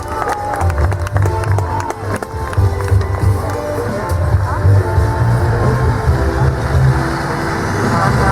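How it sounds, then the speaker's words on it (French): Crowd applauding at a vehicle stunt show at Roches de Nans, a steady wash of clapping over a low engine rumble, with an announcer's voice breaking through. "On l'applaudit bien fort."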